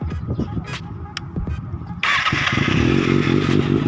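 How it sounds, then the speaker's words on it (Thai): A Kawasaki ZX6R motorcycle engine cranks and catches, then settles into a loud, raspy idle from a throaty aftermarket exhaust, close by. "เจอสตาร์ทรถหน่อย เดี๋ยวฟังเสียงท่ออาคากระป๋องนะครับ"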